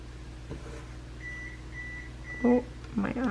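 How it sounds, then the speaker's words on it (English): An oven timer beeps three times in a steady, evenly spaced pattern, clear but moderate over a quiet room, followed by brief talking. "Oh, my oven"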